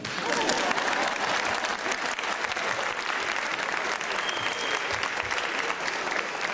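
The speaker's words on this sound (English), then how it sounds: "Clap, clap, clap." Audience applause at a spiritual discourse, dense and steady from a large crowd, loud throughout without a break.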